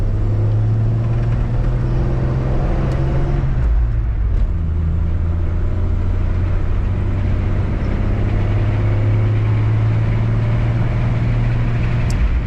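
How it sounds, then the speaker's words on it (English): A 1948 Ford F1 stepside pickup truck engine runs steadily close by with a low, even rumble and a slight dip in pitch partway through, and no voices. "Really great running truck."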